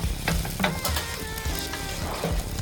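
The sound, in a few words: dosa frying on a hot pan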